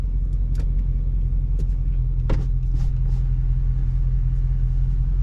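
A steady, low Dodge Charger Scat Pack engine rumble heard from inside the car cabin, muffled and constant, with a few faint clicks and knocks over it.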